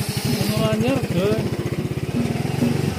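A Yamaha motorcycle engine labouring under a heavy load, its low, fast, even putter droning close and steady throughout while a person talks over it.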